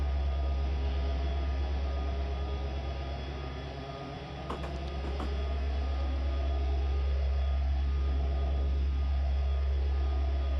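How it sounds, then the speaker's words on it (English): An Amtrak train in Train Simulator 2015 grinds uphill over Sherman Hill between Cheyenne and Laramie, a constant loud diesel drone with heavy low rumble and steady mechanical hum, a brief clatter midway. "An Amtrak train from Cheyenne to Laramie, Sherman Hill."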